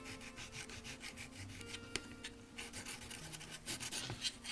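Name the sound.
smoothing rough metal edges of a Nikon lens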